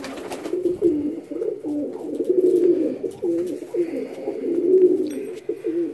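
Pigeons kept in a loft coo softly and continuously, with overlapping rolling calls close by and no talking.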